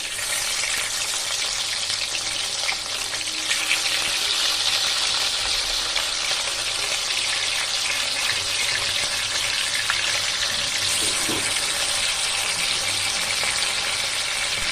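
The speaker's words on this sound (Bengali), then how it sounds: "এইরকম লাল লাল করে ভেজে তুলে নেব।" Pieces of rohu fish fry in oil, making a loud, continuous, dense sizzle up close with faint crackles and no talking.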